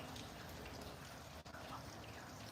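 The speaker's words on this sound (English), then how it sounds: "I like the sound of the rain." Steady rain falls during a storm, a soft continuous patter and hiss that stays fairly faint and even throughout, with a brief dip midway and no speech over it.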